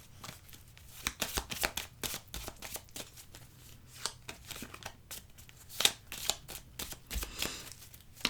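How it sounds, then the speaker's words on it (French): Tarot cards are shuffled and cut by hand in a quiet room, a soft, rapid run of papery riffles and taps continuing steadily throughout. "J'ai coupé, donc j'ai remélangé."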